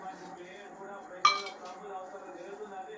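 A single sharp clink rings out as a steel coffee cup or pot is knocked while being scrubbed by hand outdoors without a sink, set against a soft, steady background murmur of voices.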